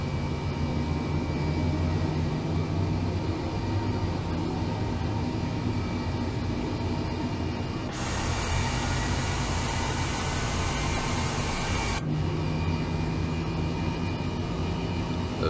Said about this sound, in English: The turbines are spooling up and the rotor is slowly following.